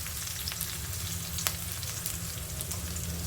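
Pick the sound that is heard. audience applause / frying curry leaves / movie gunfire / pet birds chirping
frying curry leaves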